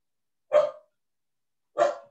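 A dog barks twice, loud and close, about a second apart with quiet between.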